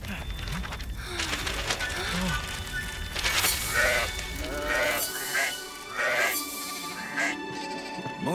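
Several sheep bleat in quick succession over a busy background, with voices speaking at the start.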